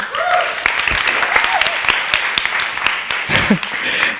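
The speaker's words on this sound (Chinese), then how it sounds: "我们用热烈掌声来欢迎郑佑强同学" An audience claps warmly for a student at a Saturday church service, a few seconds of scattered, lively applause with a voice speaking briefly over it.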